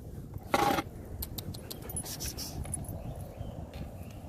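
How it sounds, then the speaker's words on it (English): Loose stray puppies and dogs out on Christmas Day: a short, sharp dog bark or yelp near the start, then quieter rustling and faint jangling. "Dude, look at these loose dogs."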